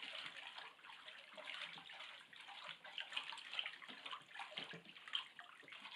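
Soft swirling and sloshing of water as alum is stirred in to dissolve for tanning a beaver hide, faint and continuous with a few small splashes.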